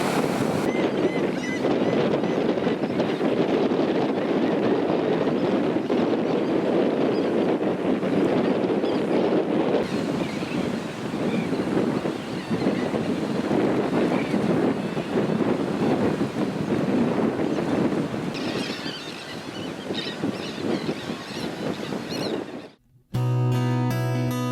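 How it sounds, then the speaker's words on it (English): A strong north wind blows over the water and buffets the microphone with loud, continuous roaring gusts, while waves wash faintly underneath before the sound cuts out abruptly near the end. "And this is the north wind."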